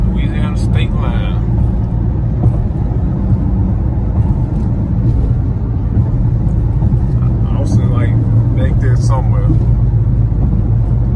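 Steady low road rumble inside a car cruising on an interstate highway crossing from Mississippi into Louisiana, loud and continuous throughout, with someone talking over it.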